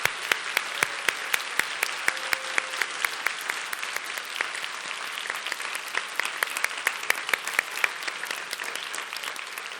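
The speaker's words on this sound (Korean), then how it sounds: "우리 청년들이 존경과 환영의 마음을 담아 박수로 한번 격려했으면 좋겠습니다" A church congregation of young adults claps steadily and warmly, sustained applause at an even level throughout.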